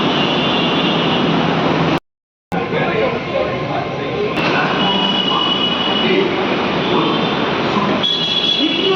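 A Mumbai Metro Line 2 (Yellow Line) train near Lower Oshiwara station rumbles and screeches along the rails in a continuous loud roar, with a brief dropout, and people talking faintly beneath the noise.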